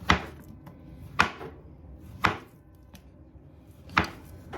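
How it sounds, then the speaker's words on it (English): A knife slices plantain on a board with four crisp, evenly spaced thuds about a second apart, close and clear, with a faint tap between them and no talking. "and we slice it for the cooking. Just slice it"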